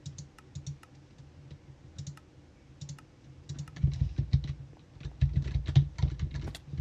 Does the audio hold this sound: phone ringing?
no